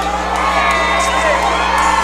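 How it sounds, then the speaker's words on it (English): A crowd roars without pause at a DFC 8 kickboxing event, a dense, loud wall of cheering and whooping with a few shouts rising above it, surrounded by a steady low hum from the hall. "The crowd's still roaring."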